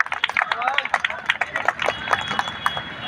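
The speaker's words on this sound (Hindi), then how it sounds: "एक बार तालियां बजा दो तो मेरी ऊर्जा थोड़ी बढ़ जाए" Audience clapping at a Gondwana cultural festival stage event, a short burst of fairly close hand claps from a small crowd with some murmuring voices mixed in.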